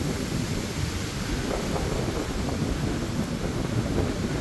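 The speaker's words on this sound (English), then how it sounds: "Wow, listen to that wind." Strong wind on a mountain top roars without pause, buffeting the microphone with a heavy, rumbling low-end and steady broadband rush; no voices.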